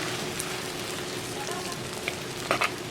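Onions and curry leaves frying in sesame oil give a steady, even sizzle throughout, with a few brief sharper crackles near the end and no speech.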